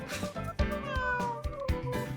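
A cat meows in the video game Christmas Tina, a few clear close meows over soft background music, with no talk.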